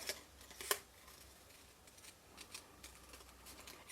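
Scissors fussy cutting paper, following white scribbled edges on a stamped card piece: a sharp close snip followed by a run of quieter, irregular small cuts.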